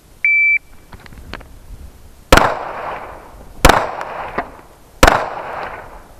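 Three pistol shots fired one after another on a tactical pistol course, each a sharp loud crack with a ringing tail, spaced roughly a second and a half apart after a short electronic start beep.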